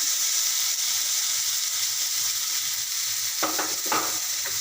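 Soaked, rinsed green mung beans fry in a pan, giving a steady close sizzle, then a few louder scraping stirs near the end.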